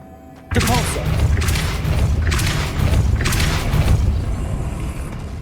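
The Depulso spell is cast in the video game Hogwarts Legacy as a sudden loud boom that opens into a dense, rumbling burst of crashing, thudding effects. Several louder surges follow over a few seconds.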